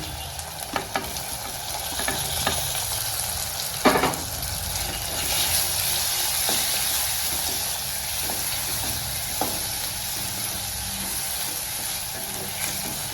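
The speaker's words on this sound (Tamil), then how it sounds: "நல்லா வதங்கட்டும்." Tomato sautéing with onion and ginger garlic paste in a pan, a continuous close sizzle broken by occasional scraping stirs of a spoon.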